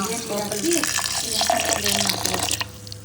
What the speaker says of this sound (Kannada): ಸೊ ಈ ವಾಟ್ರ್ ಹಾಕ್ಕೊಳ್ಳೋದು